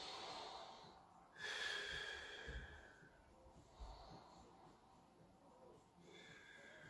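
Heavy breathing during a spinal mobilization exercise: a few loud, close sniffing and snorting breaths, with a strong burst near the start and softer exhales following at irregular intervals over a low background hiss.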